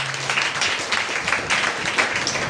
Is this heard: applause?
yes